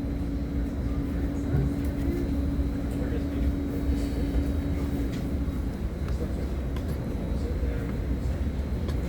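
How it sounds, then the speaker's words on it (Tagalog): Northbound local train 131 to San Francisco runs on its way to San Mateo, with a constant low rumble and hum of the moving railcar, a steady tone and scattered clanks, and occasional voices and announcements in the background. "This is northbound local train 131 making all stops to San Francisco."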